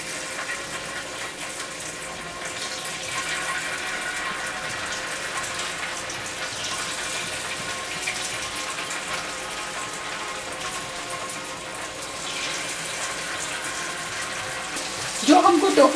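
Tofu pieces fry in hot oil as a steady, dense sizzling crackle that fills the whole stretch, with a brief clatter near the end.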